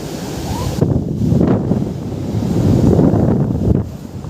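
Sea waves wash onto a shore near a village by a wooded coast, a steady broad rush with swelling surges, heavily mixed with wind buffeting the microphone; no one speaks.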